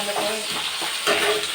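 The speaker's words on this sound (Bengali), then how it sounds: "তেলে ভালো করে ভাজা করে নেব।" Marinated potato pieces sizzle loudly in hot oil in a home kitchen while being stirred, with scraping and tossing bursts over a continuous fry.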